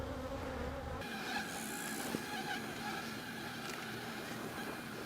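Honeybees hum in a dense, continuous buzz close around an open hive during a failed-queen inspection, steady and loud with no pause.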